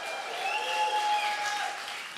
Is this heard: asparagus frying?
no